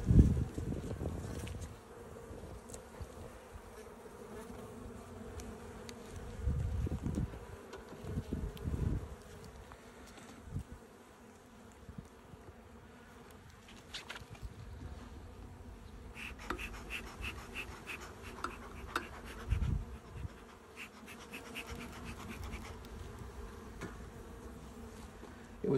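Honey bees buzzing around a hive frame lifted during an inspection, a continuous close drone rising and falling as individual bees fly past, with some wind and handling noise underneath.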